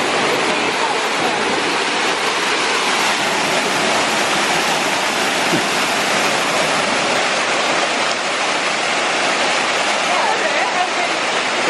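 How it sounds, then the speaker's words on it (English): A loud waterfall near Emerald Lake on the Lake Agnes hiking trail in Canada roars as a steady, dense rush of falling water that fills the whole clip without a break. "We've arrived at the waterfall."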